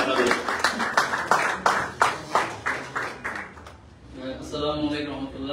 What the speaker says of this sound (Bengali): মিস্টার মিলাদুর রহমান চৌধুরী, ওনার জন্য একটা করতালি আমরা প্রত্যাশা করছি আপনাদের